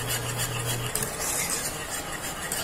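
A spoon scrapes and rubs steadily around a pan as stock thickens into sauce, a continuous close rasping stir with a brief low hum at the start and no talk.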